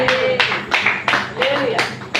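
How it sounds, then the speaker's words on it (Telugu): Clapping in rhythm during a church sermon, with strong, evenly spaced bursts of claps alternating with the preacher's voice. "చప్పట్లు కొట్టు."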